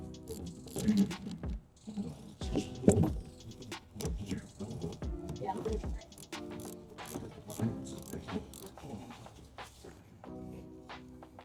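A wrench turns the nut on a rear shock absorber bolt of a 2008–2015 Scion xB, giving soft, irregular ratcheting clicks and metallic taps close by that continue unevenly for several seconds.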